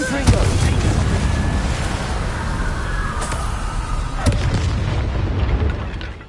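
A Confringo blasting spell explodes in the video game Hogwarts Legacy, with booming blasts over dense rumbling combat noise and a sharp hit near the end, with speech mixed in.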